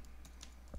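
A few light, quick clicks of a computer keyboard, faint and close, over a steady low hum.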